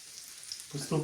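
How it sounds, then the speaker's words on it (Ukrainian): Cornmeal sprinkled into gently simmering butter gives a soft, close sizzle and faint stirring scrape, brief and quiet, with a louder bubbling burst at the end. "Всипаємо її постепенно і мішаємо."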